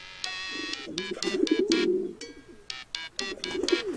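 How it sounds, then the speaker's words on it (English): Cartoonish game pigeons in Hiveswap coo in bursts of warbling, throaty calls, several overlapping phrases with brief pauses between them, close and clear with no talking. "Derpy little pigeons."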